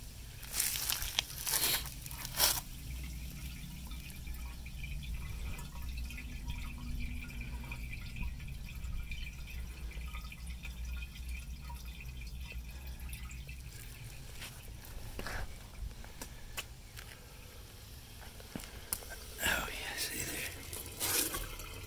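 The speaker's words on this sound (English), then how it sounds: "Oh yeah, she's still draining." Water drains from a clogged septic tank filter, trickling and dripping steadily for a long stretch with occasional clunks and scrapes nearby, while people talk intermittently.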